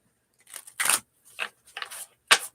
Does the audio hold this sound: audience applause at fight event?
no